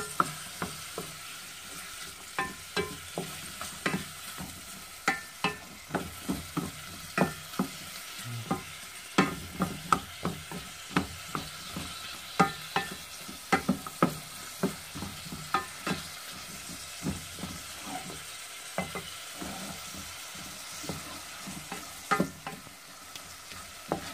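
Meat sautéed in a pan for a Filipino tabongaw dish, with a steady frying sizzle under frequent sharp scraping clicks of a utensil stirring against the pan, close and unaccompanied by talk.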